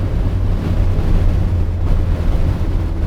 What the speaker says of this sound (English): oh my God, the wind is fucking strong.